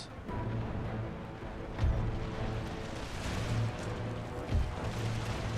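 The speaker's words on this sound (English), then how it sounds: "Bring my Harquebusier up to start engaging them with musket shot, carbine shot" Musket and carbine volleys in Empire: Total War as Harquebusier cavalry engage troops, a dense continuous battle din with a few louder bursts and booms rising out of it, fairly loud throughout.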